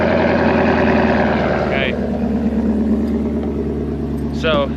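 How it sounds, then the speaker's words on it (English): A 2012 Dodge Ram 2500 Cummins diesel with stock exhaust runs after a cold start in below-20-degree weather, a loud steady rough diesel rumble close by, with a brief spoken word over it. "this is gonna be a really cold start"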